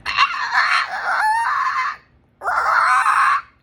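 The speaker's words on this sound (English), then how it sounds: "we have these little roosters that can't even do it yet, and they're in there going" Two strained, screechy crowing attempts from young roosters on a farm, each drawn out over a second or so, loud and close with a short gap between.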